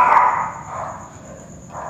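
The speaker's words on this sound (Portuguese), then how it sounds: "Quem tá latindo?" A dog barks at a house in a short series of two or three yelps, moderately near, over steady background noise and a faint high electronic tone.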